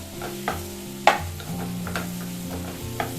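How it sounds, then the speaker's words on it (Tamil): Mushrooms are stirred in melted butter in a pan for a mushroom butter masala, with a soft steady sizzle and intermittent spoon scrapes. "இப்பயே நான் வந்து மஷ்ரூமை சேர்த்துடுறேங்க. சேர்த்துட்டு நல்லா வந்து வதக்கிடலாம்."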